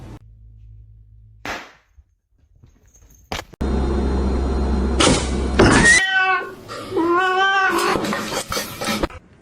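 A cat meows with long, rising and falling cries near the end, after a low hum, a brief noise burst and a stretch of loud broadband clatter; no talking.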